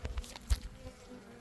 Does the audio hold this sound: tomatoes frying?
no